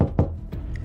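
Knocking on a house door, with two dull, heavy thuds in quick succession and then a fainter tap, close and muffled, over a low background hum.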